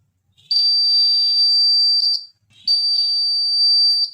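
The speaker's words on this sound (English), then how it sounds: "it gives buzzer sound." A small piezo buzzer wired to a battery gives two steady, shrill electronic tones, each about two seconds long with a short gap between them, loud and close with no talk.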